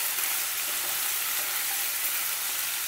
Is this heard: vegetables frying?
yes